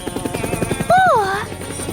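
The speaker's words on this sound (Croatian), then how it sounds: "Vidi, helikopter." A helicopter chops in a steady rapid rotor beat, close and fairly loud, then a brief rising-and-falling whooshing tone sweeps over it near the middle.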